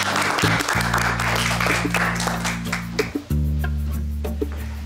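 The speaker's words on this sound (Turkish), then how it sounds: "Alkış!" Audience applause in a Turkish TV comedy scene, a thick wash of clapping over a sustained low tonal hum that dips briefly near the middle, then picks up again.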